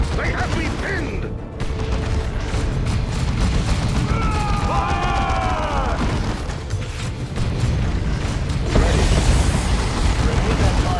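Dawn of War 2: Chaos Rising combat erupts in a dense, continuous barrage of gunfire and booming explosions, with whining mechanical sweeps and voices shouting over the din.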